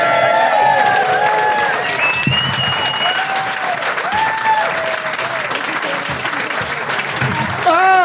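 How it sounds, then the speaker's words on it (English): Comedy club crowd applauding and cheering for comedian Nicholas De Santo, loud sustained clapping with whoops and shouted voices rising over it, staying strong to the end. "Give a round of applause for Nicholas De Santo!"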